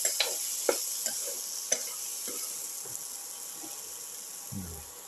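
Ginger and shallot mixture sautéing in a pan, a steady soft sizzle with scattered light clicks and scrapes from stirring, fairly quiet and close.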